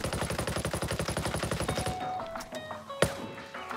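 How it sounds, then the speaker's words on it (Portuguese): Rapid automatic fire from an unsuppressed FAL rifle in the video game Ghost Recon Breakpoint, a fast even burst of about two dozen shots lasting two seconds, followed by mechanical clicks and one sharp knock. "Agora vamos atirar sem o silenciador para vocês ouvirem o som da arma."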